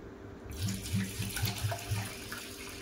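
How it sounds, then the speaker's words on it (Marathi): Tap water runs and splashes into a bowl of rinsed lentils set to soak, a close, gurgling pour that starts abruptly and continues steadily. "यात आपण फ्रेश पाणी घालणार आहोत."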